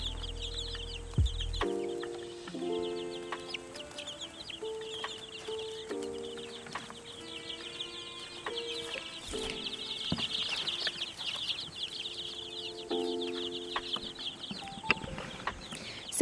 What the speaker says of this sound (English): Here are the chickies.